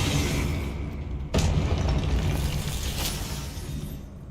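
A Confringo explosion spell from a Harry Potter video game bursts with a sharp blast just past the first second, followed by a dense, rumbling wash of effects that lingers and slowly fades.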